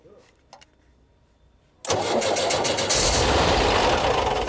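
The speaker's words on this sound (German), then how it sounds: "can you switch on the engine, please?" A Volkswagen bus engine cold-starts after a near-silent pause with faint knocks, catching abruptly with a loud crank and then settling into a close, rough, steady run that grows fuller a second later.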